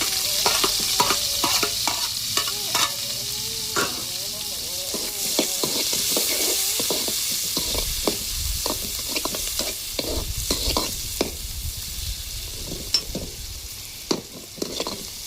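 Onions and green chillies fry in a pan as the base for a fish curry, with a continuous close sizzle and frequent sharp scrapes and knocks of a ladle stirring them.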